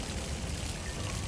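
Water pours continuously in the Spirits of Mystery puzzle adventure game, a steady, full, splashing rush with no speech over it.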